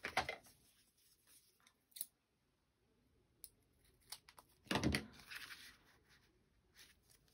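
Scissors snipping paper for a vintage compendium mini journal, a few short close cuts spread out with quiet pauses between them.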